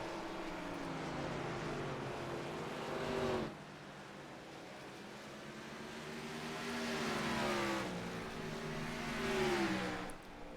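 Race cars in a sim racing broadcast, with Brady's car and Chris Pierce's Frito-Lay machine running close together. Engines drone steadily, rising and falling in pitch as the cars pass and accelerate, with no talk over them.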